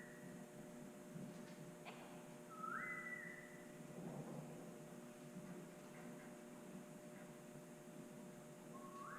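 A few short, high whistles calling a dog ring out at intervals, faint and somewhat distant over a steady low hum.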